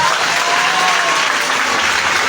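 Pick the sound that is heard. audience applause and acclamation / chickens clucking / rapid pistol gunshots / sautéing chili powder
audience applause and acclamation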